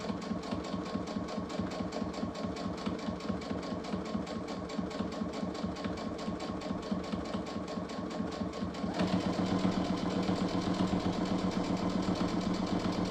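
A sewing machine stitches a turkey-themed table cover in a steady, fast, close-up whirring run that briefly shifts and grows louder toward the end, with no talking.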